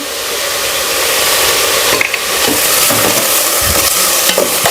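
Garlic, onion and tomato sauté with salt in a pan. A loud, continuous sizzle is broken by scraping stirring strokes, and no voices are heard.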